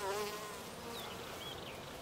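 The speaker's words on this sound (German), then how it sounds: "da sind Hummeln da, Schmetterlinge da, Bienen da" Bees and bumblebees buzz over a flowering patch in the Bavarian countryside, a soft continuous drone with individual insects drifting closer and farther, quiet and with no voices.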